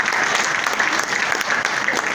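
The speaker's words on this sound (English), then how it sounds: "let me ask for another big round of applause for the members of the high table here" A student audience at a free JAMB intensive training programme gives the high table members a dense, steady round of applause, loud and continuous throughout.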